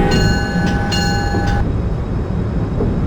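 An Acela Express train riding at about 135 miles an hour through Princeton Junction, a loud close rushing roar with a tonal whine that drops away midway, continuous with no talk.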